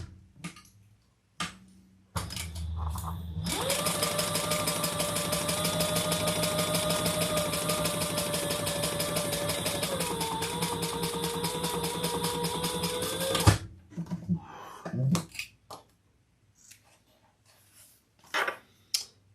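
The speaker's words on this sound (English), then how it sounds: "So we're going to sew those together at the seam allowance in the pattern." Sewing machine stitching bag panels together at the seam, a fast, even mechanical whirring and ticking run lasting about ten seconds, close and steady, with slight slowing near the end, framed by handling clatter before and after.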